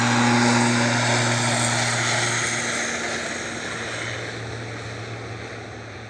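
Loganair ATR 72-600 turboprop departing Manchester for the Isle of Man, a loud propeller drone with strong low humming tones that shift in pitch and slowly fade as it moves away, no voices.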